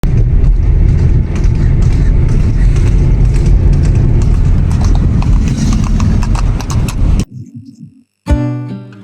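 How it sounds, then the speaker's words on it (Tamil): A horse's hooves clip-clop on a road in a fast, loud, close rhythm for about seven seconds, then it breaks off into near silence and a brief closing tone. "அதே மாதிரி அந்த குதிரை காலடி சத்தமும்"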